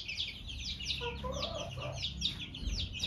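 Many small chicks cheep in rapid, overlapping high-pitched peeps, continuous and fairly close, with a few lower clucks mixed in.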